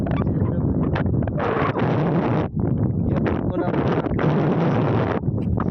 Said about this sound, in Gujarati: થોડોક પવન વધારે છે એટલે પવનનો કદાચ અવાજ આવતો હોય છે